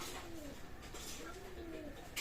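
Pakistani Teddy pigeons cooing at a pigeon sale, soft repeated low coos running through the short stretch over faint background hiss, no speech.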